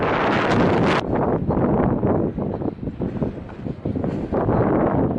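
Strong wind on the Pacific Crest Trail near wind farms batters the microphone in loud, rough gusts that rise and fall continuously, with no voices.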